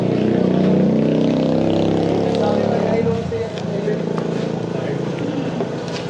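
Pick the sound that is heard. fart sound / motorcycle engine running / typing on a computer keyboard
motorcycle engine running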